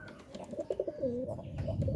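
Pigeons in a home loft, including pairs sitting on eggs, give a few soft, nearby throaty coos with faint chirps in a quiet setting.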